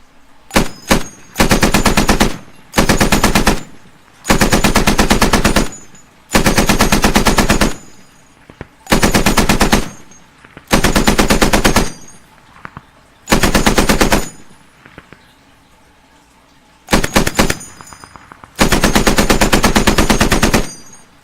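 A mounted .50 caliber machine gun fires in the Squad video game, a loud, close, repeated pattern of sustained bursts of heavy, fairly slow automatic shots broken by brief silent gaps.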